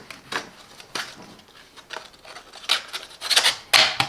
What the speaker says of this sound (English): you can remove the sanding seat, it is P80. And reinstall a new one.